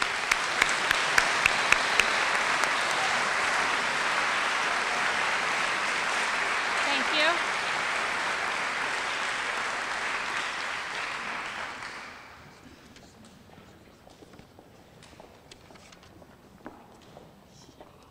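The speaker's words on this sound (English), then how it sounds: "We give them a round of applause." Dense audience applause fills a middle school awards night for about twelve seconds, then drops away to a quiet room with scattered faint claps, and a voice briefly says thanks.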